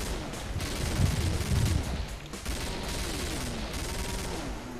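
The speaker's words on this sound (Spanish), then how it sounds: "Ese disparo ha sido bastante raro." Rapid bursts of gunfire in the video game Killing Floor crackle continuously, with sharp repeated shots over a dense background of game noise; no one speaks.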